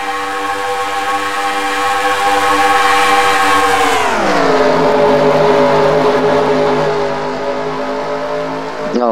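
Race cars in a sim racing video game's Christmas Eve 500 roar past at speed, the loud, layered engine whine sweeping sharply down in pitch as one car blazes by, then settling into a steady lower drone.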